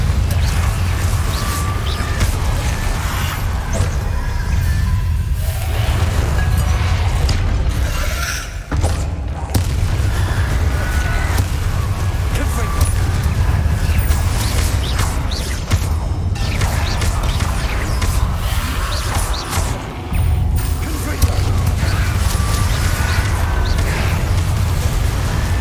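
Explosive blasts from Confringo spells in the Hogwarts Legacy video game, heavy booming thuds layered over a dense, continuous loud game mix with repeated impacts.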